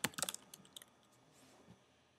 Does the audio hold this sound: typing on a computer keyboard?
yes